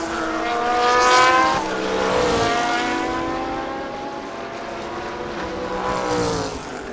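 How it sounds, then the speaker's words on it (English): A Honda NSX race car circles a circuit at a Thailand Super Series GT race, its engine rising and falling in loud sweeping pitches as it accelerates and shifts, with other cars passing close by. "And the NSX making its way around"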